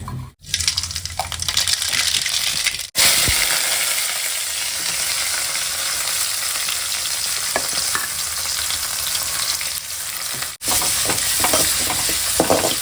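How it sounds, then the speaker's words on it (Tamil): A ground paste of poppy seeds, fennel, coconut and green chilies sautés in a pan for kurma curry, making a loud, steady close-up sizzle that runs almost unbroken, with two brief dips. "நல்லா வதங்கட்டும் இப்படி பேஸ்ட்டு போட்டுக்கிறேன்"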